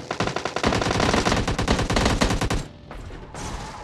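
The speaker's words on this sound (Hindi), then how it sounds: "यहाँ पे मस्त देखो गनशॉट्स की आवाज़ आ रही थी" Rapid automatic gunfire in the PUBG Lite video game crackles loud and close in a dense, sustained burst, then breaks off into a quieter pause before a shorter rattle resumes.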